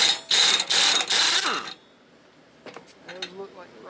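Pneumatic impact gun loosening a 15/16 pulley nut on a John Deere LA110 42-inch mower deck: three loud, harsh rattling bursts in quick succession, then quieter metallic clinks and handling noises.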